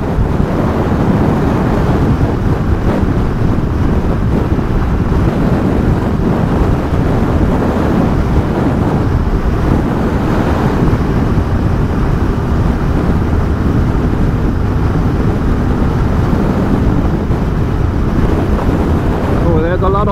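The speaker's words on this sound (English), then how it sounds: "A lot of pressure from the wind." Strong wind roars steadily over a rider on a 2020 Benelli Imperiale 400 motorcycle, a loud, constant buffeting rush that fills the whole stretch with no break.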